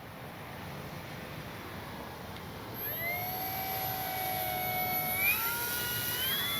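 An FMS 1700mm PA-18 Super Cub RC plane flies overhead, its electric motor whining in rising and falling pitch sweeps over a steady outdoor wind rumble, getting slightly louder toward the end.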